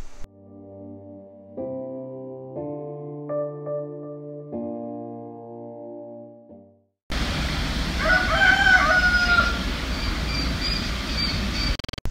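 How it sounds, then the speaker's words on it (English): Soft music plays first, then outdoor ambience with a rooster crowing once, its call rising clearly over steady background noise. "It also had a special resident rooster on guard."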